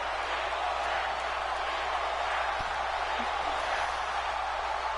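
A large arena crowd roars in a steady, loud, unbroken wash of cheering with no clear breaks, heard without any speech over it.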